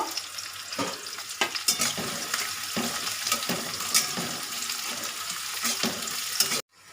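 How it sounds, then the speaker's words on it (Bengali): Chopped onions fry in a pan with a constant close sizzle, punctuated by repeated scraping and clinks of a utensil stirring them, ending abruptly. "পেঁয়াজটা আমি লাল লাল করে ভেজে নেব"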